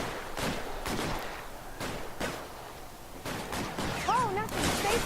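Shotgun and gunfire blasts in the crime video game LA Noire, several sharp broadband bangs spread unevenly through the clip, with game voices and background noise underneath.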